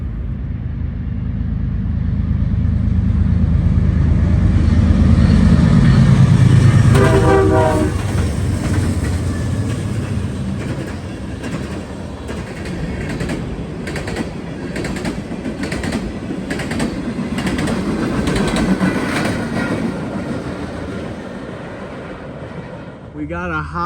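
A freight train, a GE Evolution-series locomotive leading and a Dash 9 trailing, rolls past loud and close with a brief horn sounding early, then a steady rumble and rhythmic clatter of cars that fades slightly toward the end.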